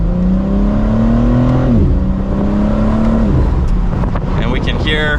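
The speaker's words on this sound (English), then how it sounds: "And we can hear that exhaust." A 2023 BMW M4 Competition Convertible exhaust drones steadily and loud from inside the cabin, rising in pitch with a shift partway through, then a rougher, flappier roar near the end.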